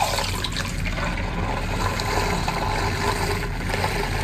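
An electric makeup brush cleaner spins brushes in water, producing a steady, close, churning swish and slosh with a constant motor whir underneath, running without pause.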